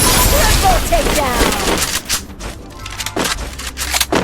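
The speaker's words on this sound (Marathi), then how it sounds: "तिकडून पण फायरिंग येते" Rapid bursts of gunfire in the Free Fire mobile battle game crackle loud and close, a dense fusillade at first that thins into scattered shots and clicks.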